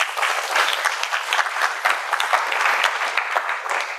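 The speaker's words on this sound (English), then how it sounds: "Give them a round of applause, please." An audience at a candidate forum breaks into steady, dense applause that stays loud and even throughout without pause.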